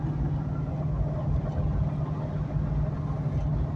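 A 2000 Ford Expedition's engine hauling a load of large firewood rounds downhill, a steady low droning hum with a constant pitch, heard from inside the cab without talk.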